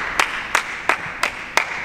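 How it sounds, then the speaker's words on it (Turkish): Five sharp hand claps at a steady, slightly slow rhythm, close and clear against a quiet room, with no talk between them. "Alkış tutuyorum"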